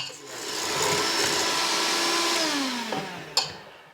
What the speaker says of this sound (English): Now you're gonna mix all that together